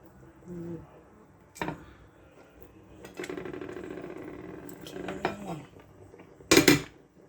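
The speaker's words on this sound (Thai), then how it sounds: "จากนั้นก็ ทำการคนนะคะ ให้ไก่เข้าถึงหม้อนะคะ" A spoon scrapes and clinks against a metal pot while stirring chicken, with irregular stirring sounds, a few sharp knocks, and a soft clatter near the end. Close by, no talking.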